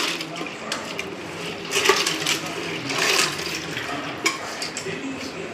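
Toor dal lentils are swished and rinsed in water in a kitchen, making splashing and sloshing with a few sharper pours and swirls. Close and moderately loud, with a voice speaking over it.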